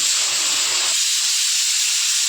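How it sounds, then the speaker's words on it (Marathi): A loud, steady hissing steam whistle from a pressure cooker, sustained and close, with low rumble fading out partway through. "तीन शिट्ट्या झालेल्या आहेत कुकरच्या"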